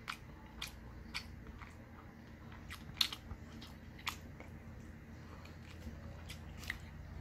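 Chewing grilled mackerel with rice, soft close mouth sounds with scattered wet clicks and small crunchy bites over a quiet background, no talk.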